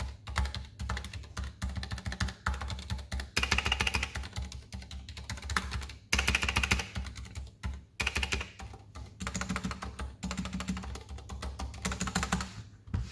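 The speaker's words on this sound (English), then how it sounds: "just to kind of give you a sound test of what it would sound like if you're really pounding away on it" Hard typing on a Ducky One 2 Mini keyboard, a dense, steady clatter of fast keystrokes at close range over a low constant hum, with no talk.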